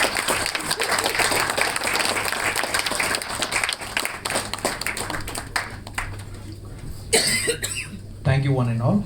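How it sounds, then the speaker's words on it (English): Audience applause at an event, a loud steady wash of claps for several seconds that thins out, with a cough and then a voice speaking near the end. "Come on, let us give all of them a big round of applause"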